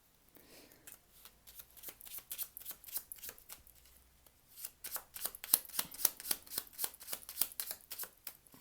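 A deck of gilded tarot cards being shuffled by hand, with steady riffling and flicking close up that grows louder and busier in the second half, with no talking over it.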